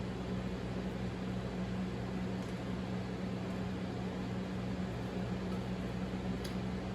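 A Harvest Right freeze dryer runs with a steady, even mechanical drone and a low hum, constant throughout with no talking.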